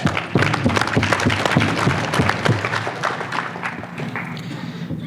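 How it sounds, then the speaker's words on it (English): At a landscape contractor summit Q&A, an audience gives a round of applause, loud crisp claps at first that gradually thin and fade, with a voice or two murmuring near the end. "Round of applause for Josh."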